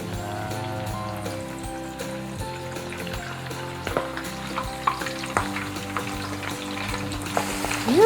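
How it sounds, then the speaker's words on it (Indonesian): Milkfish fry in hot oil in a home kitchen, giving a steady close crackling sizzle throughout with small spatters and the clink of a utensil stirring. "kita tinggal goreng"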